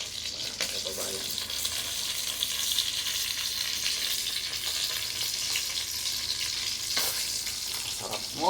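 Eggs and tomatoes frying in a pan in a home kitchen in Houston, Texas, giving a steady, close sizzle throughout with occasional stirring scrapes and no talk.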